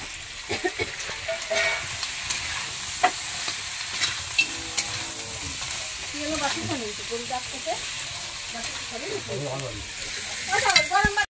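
Food stirred in a pot over a wood-fired home cooking fire in a courtyard, with scraping and sizzling textures running throughout, a few brief clacks, and some speech or voices in the background.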